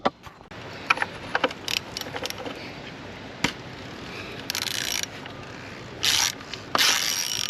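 A ratchet wrench breaking loose a bolt on an MK7 Golf R during an oil change, with scattered clicking pawl bursts and short ratcheting runs between quieter pauses, close up.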